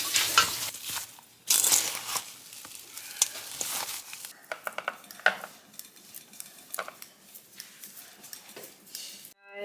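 Homemade apple pie filling being mixed in a bowl makes wet, irregular stirring and squelching sounds with occasional clinks, close and moderately loud, in bursts with short pauses.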